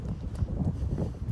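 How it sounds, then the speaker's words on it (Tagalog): Gusty wind buffets the microphone in low, rumbling blasts, loud and close, with no voices. "Mahangin, malamig."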